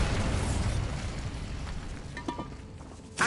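A Bombarda spell goes off in Hogwarts Legacy as a muffled rumbling explosion that fades out, then a few faint clicks and a sharp final burst at the end, with no voices.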